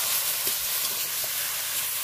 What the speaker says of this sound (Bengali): একদম নাড়তে নাড়তে আমি এটা ভালো করে শুকিয়ে নেব